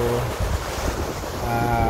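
Steady rushing wind and the wash of ocean waves, broad and continuous, with a faint tonal hum in the background.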